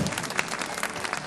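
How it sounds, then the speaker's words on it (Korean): Congregation clapping together at a youth worship service in a church, a dense, steady burst of applause from a crowd, fairly close and even throughout. "박수 괜찮았어요?"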